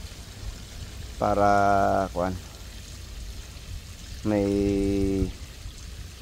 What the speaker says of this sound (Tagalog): So lagyan muna natin ng tubig dyan